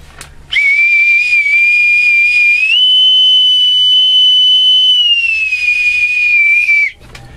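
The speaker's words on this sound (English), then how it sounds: "my authentic bosun's whistle." A bosun's whistle pipes one long, shrill, steady note that rises in pitch partway through and holds, then cuts off abruptly.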